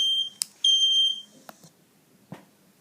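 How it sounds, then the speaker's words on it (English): A smoke alarm sounds a shrill, sustained electronic beep twice in quick succession, then stops. A few soft knocks follow in the quiet. "you hear the ringing fire alarm sounds and react accordingly to stop the fire."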